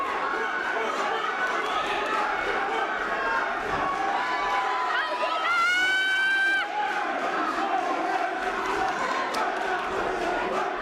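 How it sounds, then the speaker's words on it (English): A boxing arena crowd roars and shouts continuously during a bout, with overlapping voices, a rising chant and a brief whistle or horn-like swell in the middle, loud and sustained. "The crowd is really into this fight. We've got vocal support for both fighters."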